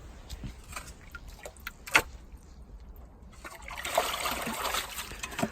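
Water trickles and drips outdoors at a winter shelter where a pool of water has collected, with scattered nearby splashes and drips, a sharp splash near two seconds, and a steadier, louder trickling flow building in the last couple of seconds.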